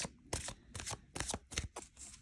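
Tarot cards are shuffled in quick, crisp riffling bursts, about five short rustling flurries, close and quiet.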